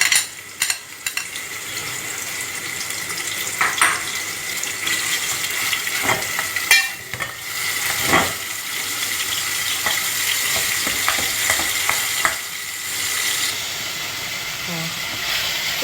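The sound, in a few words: marinated chicken frying in oil in a pan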